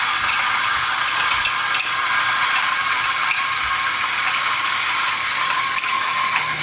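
A Timemore Sculptor coffee grinder runs with a steady, loud mechanical whir and fine ratcheting, gear-like texture that continues unbroken throughout, with no talking.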